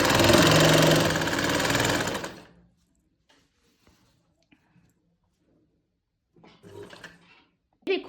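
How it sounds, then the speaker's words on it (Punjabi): Sewing machine stitching a salwar, running loud and steady for about two seconds, then stopping to near silence with a few faint clicks and soft handling noises, before a brief quieter burst of stitching near the end. "ਆਸਨ ਕੋਲੋਂ ਸਲਾਈ ਸ਼ੁਰੂ ਕੀਤੀ ਆ ਆਪਾਂ ਐਦਾਂ ਸਲਾਈ ਲੈ ਆਉਂਦੇ"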